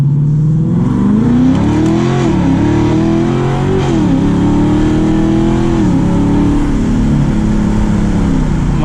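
A cammed Dodge Challenger Scat Pack revs while driving, its loud, close engine note climbing and falling through several throttle pulls with a choppy lumpy undertone, no speech over it.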